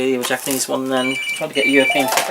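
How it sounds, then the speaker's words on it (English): A telephone rings faintly in short repeated bursts behind someone talking continuously, its tone mostly buried under his voice. "Excuse me, that's the phone."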